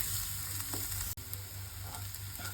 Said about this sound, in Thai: เจียวหอมให้หอมก่อน